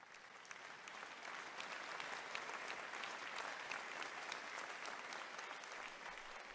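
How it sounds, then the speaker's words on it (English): Seminar audience applauding together, a steady dense wash of clapping that holds at an even level for several seconds with no talk over it. "give yourselves a round of applause."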